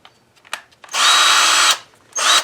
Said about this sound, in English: And last but not least, the drill driver.